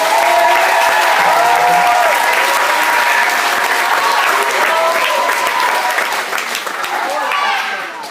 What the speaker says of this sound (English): Everyone give a round of applause to Carter Cummings.